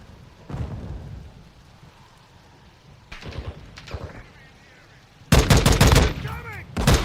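In Call of Duty Modern Warfare II, scattered distant shots thud through a quiet stretch, then a loud close burst of rapid automatic gunfire erupts near the end, with muffled voices in the background.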